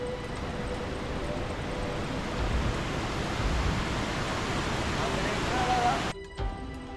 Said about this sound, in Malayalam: താഴെ വെള്ളച്ചാട്ടത്തിൽ കുറേ പേര് കളിക്കുന്നുണ്ട്.